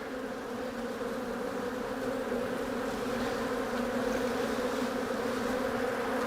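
Honeybees buzz steadily around an opened hive during an inspection of a three-way split, a dense, close, continuous hum with no voices.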